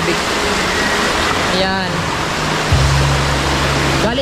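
Steady broadband rush of a waterfall in Mindanao runs throughout, close and loud, with a brief voice speaking over it and a low hum joining near the end.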